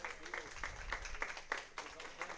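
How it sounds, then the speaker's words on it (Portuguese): A church congregation applauds during a Sunday sermon, with fairly sparse, moderately quiet clapping carrying on throughout while a voice is heard faintly underneath. "você pode dar um forte aplauso a Jesus por isso?"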